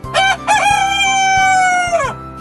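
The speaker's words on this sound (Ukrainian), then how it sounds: "а півник на даху всім співа Кукуріку." A rooster crows once, a loud, close cock-a-doodle-doo with a long sustained middle note that drops off at the end.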